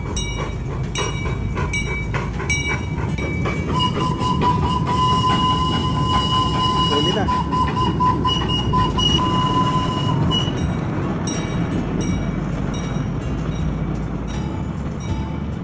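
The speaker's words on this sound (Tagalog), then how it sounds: "nakabiyahe na yung tren" An old miniature steam train runs through a park, its steady rolling rumble and rail clatter loud and close, with a long bright whistle-like tone sustained through the middle and shrill wheel squeals above.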